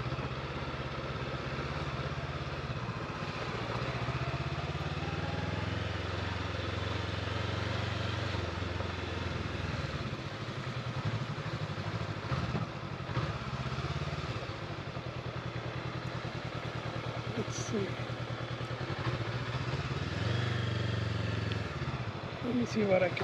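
Motorcycles at a bike camp in Uthai Thani, Thailand: a steady, low engine rumble and idling with occasional clatter that carries through the whole stretch, fairly quiet and distant, with a person speaking over it.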